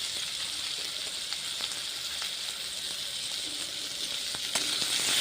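Halved small new potatoes fry in hot oil with turmeric and salt, giving a steady, dense sizzle that holds evenly throughout and is faintly punctuated by small pops and crackles.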